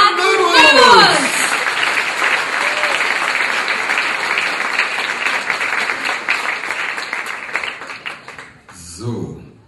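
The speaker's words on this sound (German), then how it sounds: "Trainiert schon mal für die Applausabstimmung mit eurem Applaus für Jan Nymoos!" Loud audience applause at a poetry slam, breaking out after a shouted introduction and sustained as a dense wash of clapping before tapering off while a voice returns.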